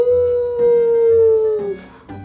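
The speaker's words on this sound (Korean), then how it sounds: "밤 동굴 밖에서 늑대 울음소리가 들린다." A wolf howls outside a cave at night: one long, sustained, slightly falling tonal howl that trails off, followed by a brief fainter yelp.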